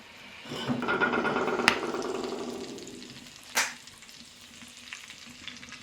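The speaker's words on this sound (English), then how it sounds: "I'm going to sear the sides of it." Venison backstrap sizzles loudly as it sears on a wood stove in an abandoned cabin, a crackling hiss that swells and slowly fades, broken by two sharp clacks of a pan or utensil.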